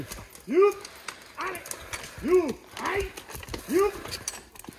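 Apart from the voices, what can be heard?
horses' hooves clip-clopping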